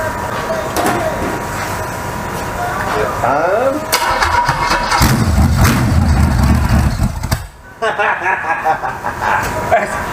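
A freshly rebuilt small-block Chevy V8 cranks over and fires on its first start, rising to a loud, rough idle with a sharp rev, while people talk nearby in a garage.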